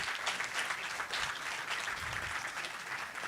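An audience at a heritage symposium claps for the panel, a fairly faint but continuous patter of many hands that keeps an even pace from start to finish.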